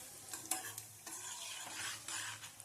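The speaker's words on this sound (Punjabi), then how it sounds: "ਇਹਨੂੰ ਚੰਗੀ ਤਰ੍ਹਾਂ ਭੁੰਨਾਂਗੇ" Kalonji and poppy seeds roast in a pan while being stirred, giving a soft continuous sizzle with scraping strokes, faint and close, no talking.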